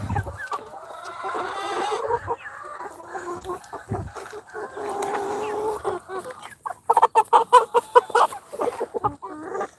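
A young rooster clucking and calling nearby, drawn-out vocal squawks followed by a quick run of sharp clucks, with a person's voice briefly in the background.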